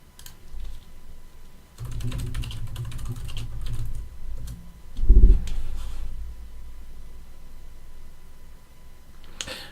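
Short bursts of rapid key clicks on a computer keyboard typing a web search, close and fairly quiet, with pauses between bursts and a brief thump partway through.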